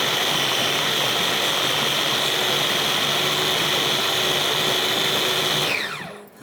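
Food processor whizzing mushroom pesto with salt and pepper, a loud steady motor whine running continuously for about six seconds before spinning down and cutting off.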